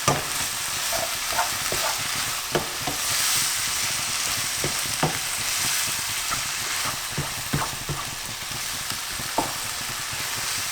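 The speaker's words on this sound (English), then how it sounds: "open the tin with chopped tomatoes and add half. And mix." Chopped tinned tomatoes are stirred into a chicken curry in a hot pan, with a constant frying sizzle under repeated soft scraping and clinking spoon strokes, close up and with no talk.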